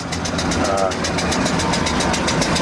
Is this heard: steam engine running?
yes